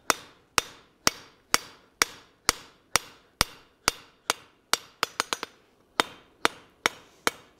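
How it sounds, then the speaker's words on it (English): Hammer blows on hot iron at a forge, shaping a colonial-style trivet scroll: about sixteen sharp, ringing strikes in a steady rhythm with a quick triple burst midway, loud and close with no talk. "we're going to cheat the system a little bit by forging a lot of the thickness out of the piece"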